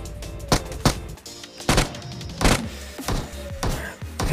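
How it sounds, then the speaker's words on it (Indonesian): Gunfire from the mobile battle-royale game PUBG Mobile: a run of sharp, loud shots at irregular intervals with mechanical clicks and thuds between them, no speech. "Tembakan keluar"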